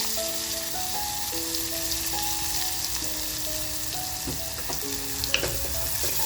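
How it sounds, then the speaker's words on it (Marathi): Onion dropped into hot oil in a clay pot, a loud continuous sizzle and crackle up close, with a few light clinks and background music tones throughout. "कांदा जो घेतलाय तो कांदा टाकून घ्यायचा"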